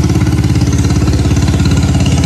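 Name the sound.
motorboat engine passing on river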